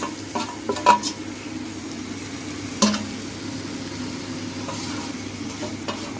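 Chicken frying in red spice masala in a pan, a soft low sizzle with scattered stirring scrapes and a few clinks of a utensil against the pan, fairly quiet throughout.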